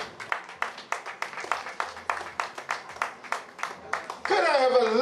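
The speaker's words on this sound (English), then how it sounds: "Could you all put your hands together" Steady rhythmic hand clapping from a group at a birthday celebration, evenly spaced claps at a brisk pace, ending in a burst of louder mixed sound.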